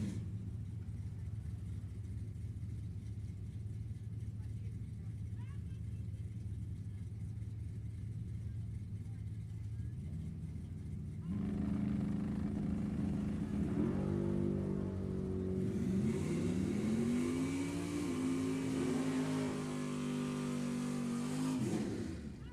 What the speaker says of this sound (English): It's pretty darn good drag race getting set to go.